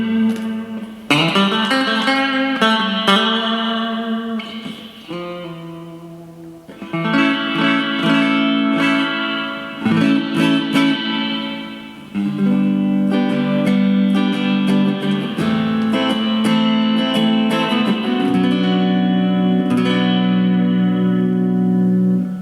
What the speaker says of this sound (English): Reverb sounds pretty cool on them too.